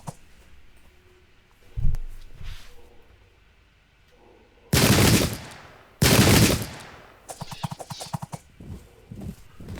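Gatling gun firing in a video game battle with Zulu warriors, two loud rapid bursts of automatic fire, then a softer rattling stretch, with horse hoofbeats and scattered battle noise between them.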